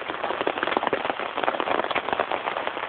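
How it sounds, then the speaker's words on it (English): Heavy rain pours down steadily in a dense, loud, continuous hiss with scattered sharp drop impacts, no voices over it. "Dear God, man, when does this rain end?"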